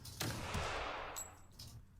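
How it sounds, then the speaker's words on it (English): A gunshot: one loud, sharp crack up close followed by a decaying rumble and a few fainter trailing clicks. "Is that a gunshot?"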